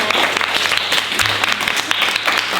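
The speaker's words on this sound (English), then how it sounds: "You clap your hands." A small group of children claps hands together in a classroom, brisk uneven clapping with a low hum beneath, steady for a few seconds.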